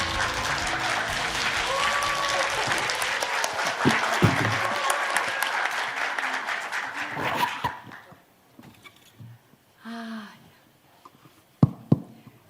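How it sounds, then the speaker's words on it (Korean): Audience applause fills a symposium hall to welcome a keynote speaker, loud and sustained for about seven seconds before breaking off into near silence with a few scattered claps and faint voices. "여러분 박수로 환영해 주십시오."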